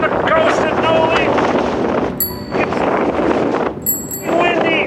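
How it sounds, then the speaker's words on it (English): Sharp February coastal wind buffets the microphone in loud, steady gusts along the coast road at Noli, Italy, with brief high tonal chirps and faint traffic mixed into the roar. "It's windy."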